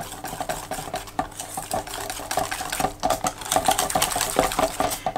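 A spoon stirs Normandy cake batter with small chopped apple pieces in a bowl, giving a steady run of rhythmic scraping and clinking strokes, close and fairly loud, with no talking.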